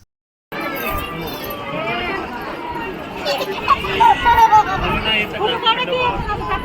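A dense crowd of pilgrims at Jejuri temple, a constant close hubbub of many overlapping voices, with children's chatter and louder shouts rising in the second half.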